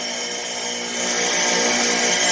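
A 49-year-old Sears bench grinder running steadily, a close, continuous motor whine with a buzzing hum that swells slightly as it keeps spinning.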